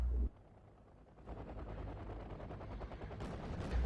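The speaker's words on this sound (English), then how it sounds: "my T-55 are probably firing at the highest angle of their cannon just to shoot those mountaineers" T-55 tanks fire their cannons at steep angles against mountain infantry in a Cold War real-time strategy game, a quiet rolling series of distant booming shots under continuous battle rumble.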